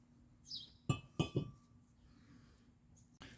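Brake rotor removed from a 2005 Toyota Corolla 1.8, three sharp metallic clinks close together, then a faint scrape and a final clank, with light workshop background and no speech.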